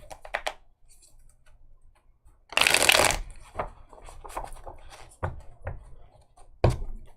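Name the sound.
shuffling tarot cards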